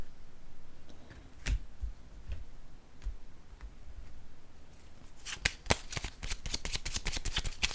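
Tarot cards being handled: a few soft taps and single placements, then a quick run of crisp riffling shuffle clicks near the end, close by and without speech.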